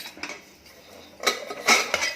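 Metal pot and lid clink and clatter as a pressure cooker is opened after popping corn, a few sharp knocks close by, with the loudest rattle near the end.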